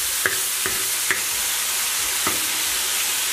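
Pork slices stir-fry in a wok with soy sauce, scallion, ginger, dried chilies and Sichuan pepper powder, giving a loud, steady hissing sizzle punctuated by a few spatula knocks.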